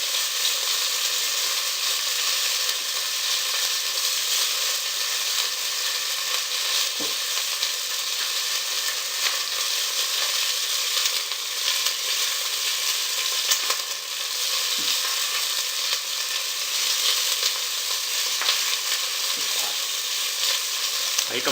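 Duck frying in a pan with mandarin and grapefruit peels added, a dense, even sizzle that holds steady throughout, with a few faint soft knocks beneath it.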